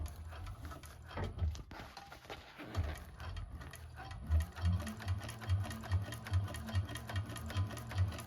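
A 1341 cylinder arm sewing machine stitches a bag, starting with a few clunks and handling noises and then settling into a steady, rapid mechanical thumping rhythm, close and moderately loud, with no talking.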